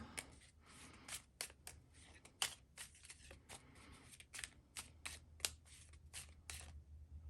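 Tarot cards are shuffled by hand up close, a quick series of crisp riffling snaps and soft slides at an irregular rhythm, quiet overall with no talking.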